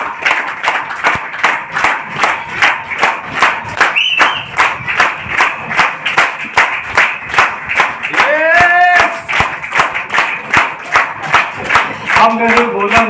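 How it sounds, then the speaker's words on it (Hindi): An audience at a DTM launch event in Chandigarh claps steadily in rhythmic unison, loud and sustained, with brief whistles or cheers breaking through midway. "फिर भी आप ताली बजा रहे हैं"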